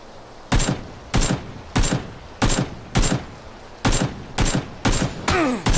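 Gunshots in a battle royale video game, about nine evenly spaced sharp reports roughly half a second apart, fairly close and loud against a quiet background.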